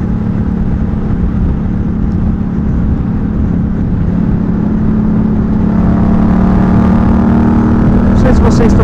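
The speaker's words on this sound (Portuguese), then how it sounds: "o som, o ronco dessa moto" A Yamaha MT-07 motorcycle with a roughly 700 cc two-cylinder engine drones loudly and steadily close by, a dense constant roar with a slight rise in pitch toward the end.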